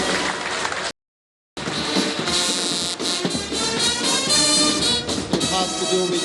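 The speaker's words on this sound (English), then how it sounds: "A round of applause again for the beautiful performance." Audience applause for a silent drill performance at a Nigeria Democracy Day 2019 ceremony, a steady loud wash of clapping and crowd noise that breaks off briefly and then resumes.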